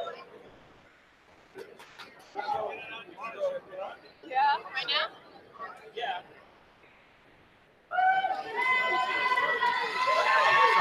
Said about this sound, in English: You hear the crowd across the way getting excited